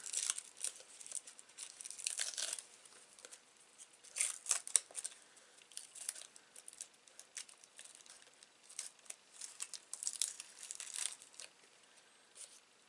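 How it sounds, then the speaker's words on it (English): Press and Seal plastic wrap being peeled off a card, giving bursts of crinkling and tearing crackle with brief pauses, fairly quiet and close. "now you need to just peel off the press and seal"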